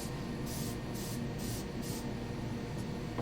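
Spray paint hissing onto Battletech clan miniatures, a steady continuous airy spray with several brief louder bursts, close and alone without talk.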